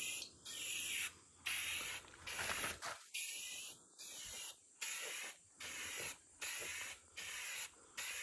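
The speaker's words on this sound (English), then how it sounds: "But now we're gonna paint this rear bumper and give her hell." A spray paint can coating a truck's rear bumper in a series of short bursts of hissing spray, each about half a second long, separated by brief pauses, close by with no talking.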